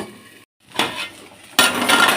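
A metal lid is set onto a pan of okra frying with whole poppy seeds, turmeric and salt, giving a brief clatter followed by a louder clink and a steady sizzle, close by with no talk.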